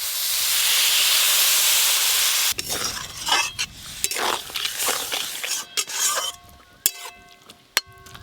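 Water poured into a hot pan of village-style chicken curry with sweet potato bursts into a loud, rushing hiss for a couple of seconds, followed by irregular stirring scrapes and sharp metallic clinks against the pan.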